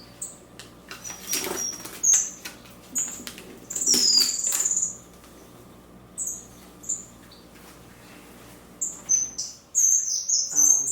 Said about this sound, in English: They are a pair of finches,